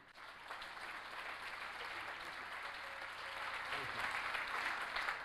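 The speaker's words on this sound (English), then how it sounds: "Applause again." An audience applauding at a tribute evening at Golden West College, a faint, even spread of clapping that swells slightly toward the end.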